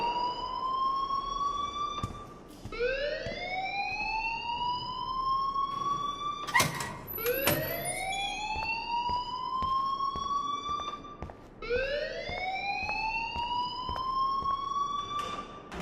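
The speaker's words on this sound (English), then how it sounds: "please turn off that alarm since that's your job" A fire alarm in the video game Life Is Strange whoops in loud rising sweeps, repeating about four times with a brief sharp burst midway, sounding continuously with no talk over it.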